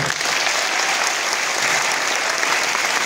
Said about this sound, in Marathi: एकदा टाळ्या वाजवा विचार मंचासाठी